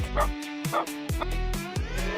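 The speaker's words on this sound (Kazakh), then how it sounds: "Ит." A dog yaps in quick repeated barks, about two a second, over a steady rhythmic musical backing.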